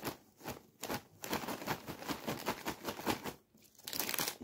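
A Lulu Puffs ketchup-flavoured snack bag crinkles as it is opened, dense rustling and crackling plastic close to the microphone, nearly continuous with brief lulls and no talking.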